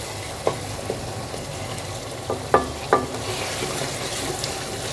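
Tomatoes are mashed with a spoon in a karahi for Afghani potato karahi, with a few sparse taps and scrapes over a steady low hum and faint frying hiss.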